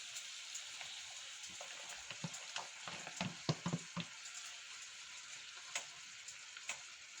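Vegetables added to a pot of chicken stewed with Diet Coke, a faint steady sizzle with a brief cluster of clinks and splashes as they go in, then settling back to a soft simmering hiss.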